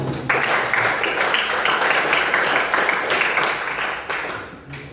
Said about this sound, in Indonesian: Berikan aplaus dulu untuk kelompok 1.